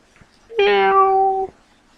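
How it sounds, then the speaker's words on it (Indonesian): A single loud, drawn-out cat meow, close and clear with a steady pitch that holds for about a second, from a cat struck by a car on a residential street at dusk. "Sepertinya ada seekor kucing yang sudah kutabrak."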